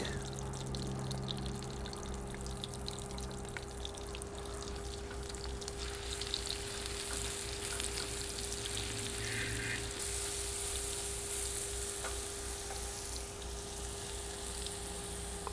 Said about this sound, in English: Using a Wagner skillet. And then put the garlic.